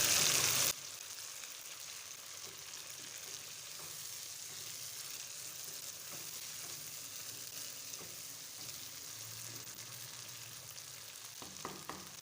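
Boiled potato slices fry and get gently stirred in a pan, a soft continuous sizzle with light scraping, steady and close, after a brief louder burst at the start.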